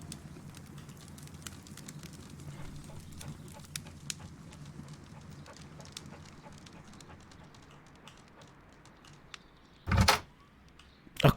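A dog opens a door in the Sherlock Holmes: Crimes and Punishments video game. A low ambient bed runs throughout, then a sharp, loud burst of door noise lands near the end, followed by a second brief knock.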